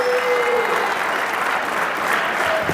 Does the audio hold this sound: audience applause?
yes